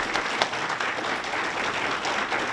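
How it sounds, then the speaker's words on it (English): A crowd at a horror fan convention panel claps steadily for actor Carel Struycken, a thick, even wash of applause with no voices over it. "round of applause for Mr."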